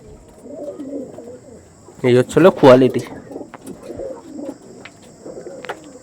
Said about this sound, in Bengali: দেখুন অরিজিনাল খরগোশ চোখের পায়রা